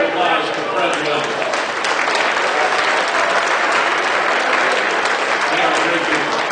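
Audience applause at a charity dog auction fills the room, steady and dense for the whole stretch, with a voice or two mixed into the clapping.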